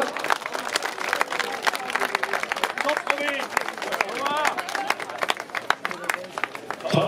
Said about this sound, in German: Der junge Mann mag Applaus